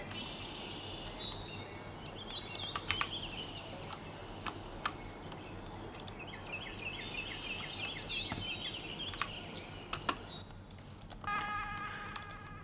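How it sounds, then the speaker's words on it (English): Quiet outdoor ambience with scattered birds chirping and calling at a distance, short bright tweets coming and going over a soft background hum. "Got these birds over here."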